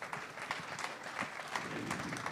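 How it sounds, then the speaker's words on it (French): Audience applause at a 24 Heures du Mans press conference, greeting the winning car of the Michelin Challenge Design, a brief moderate round of many people clapping steadily in a hall, slightly distant, with no speech. "Et vos applaudissements"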